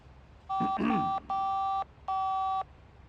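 Telephone call being placed in The Da Vinci Code video game on PS2, a quick burst of dialing tones followed by three evenly spaced ringback tones, clear and close with a brief vocal sound over the first tone.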